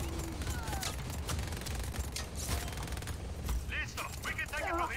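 Rapid enemy gunfire aimed at a cannon in the video game Just Cause 4, a dense continuous rattle of shots with game voices cutting in near the end.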